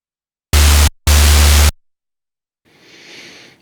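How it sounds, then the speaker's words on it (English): Two loud bursts of harsh synthesized white noise start and stop abruptly, then a softer, filtered hiss swells in after a pause. "Now to add some white noise."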